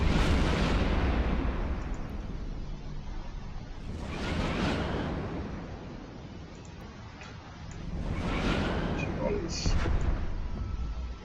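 Missile volleys fire from a cruiser in EVE Online during a rogue drone event, heavy booming launches with whooshing tails arriving in three swelling waves over a steady low rumble.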